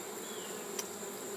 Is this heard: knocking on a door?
no